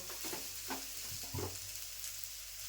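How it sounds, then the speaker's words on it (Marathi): A fresh green pea filling for matar kachori is sautéed dry in a pan, with a soft continuous sizzle and a few stirring scrapes, fairly faint and with no talking. "व्यवस्थित असं आहे ना परतून घ्यायचं, एकदम ड्राय करून घ्यायचं आपल्याला असं सुकून"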